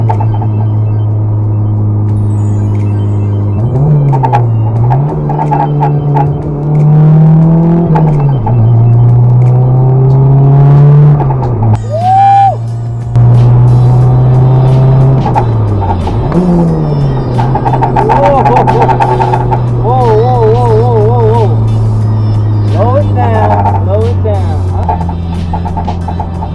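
A turbocharged Honda Civic accelerating hard on a road, its loud engine note climbing and dropping through repeated gear changes with rising turbo whine, close and continuous for the whole stretch.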